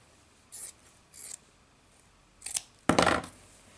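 Scissors snipping T-shirt yarn, a few brief crisp cuts spaced out, the last one louder and closer, with quiet between.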